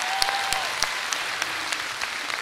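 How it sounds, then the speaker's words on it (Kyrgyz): A comedy show audience gives a round of applause for the Tashkent team, steady crowd clapping with sharper individual claps standing out. "кол чаап коелу Ташкентке."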